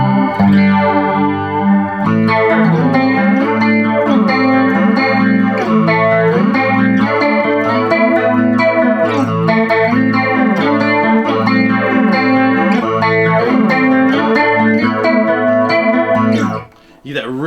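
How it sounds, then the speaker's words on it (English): Electric guitar played through a JHS 3 Series flanger pedal into a Fender Tone Master Twin amp, a thick, heavy sweeping flange over sustained chords and riffs, loud and continuous, ending with a brief dip. "thick flangery sound. If that's what you're looking for out of this pedal, it can do it"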